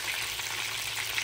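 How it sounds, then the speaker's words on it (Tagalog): Chicken frying in oil, a brief burst of steady bubbling sizzle heard close, with no voices over it. "Kaya ito, nagpiprito ako ngayon ng manok."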